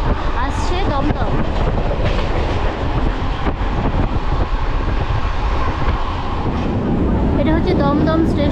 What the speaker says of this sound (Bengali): আর এবার আমাদের ট্রেন লাইন চেঞ্জ করে যাবে ডানকুনির দিকে